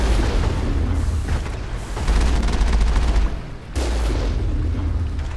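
Dense, continuous assault rifle fire and booming impacts from the Mass Effect video game roll on loudly throughout a chaotic firefight, with no clear pauses.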